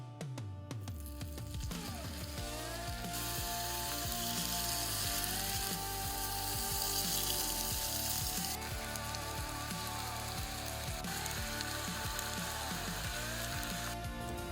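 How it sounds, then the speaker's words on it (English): Homemade breakfast sausage patties fry in a pan, giving a loud, steady sizzle and crackle with dense popping that runs without pause and no talk. "don't smash them down in the pan. Let them cook on their own so they brown properly and stay juicy"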